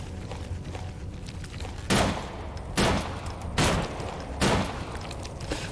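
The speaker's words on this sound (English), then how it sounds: "Why are you shooting the floor?" Gunshots in the horror video game The Mandus, four loud, evenly spaced blasts about a second apart over a dull rumbling background.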